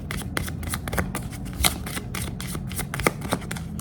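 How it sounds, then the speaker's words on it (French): Playing cards being shuffled in quick repeated riffles and flicks, close and clear, with no talking over them. "Alors, je vais frapper les cartes."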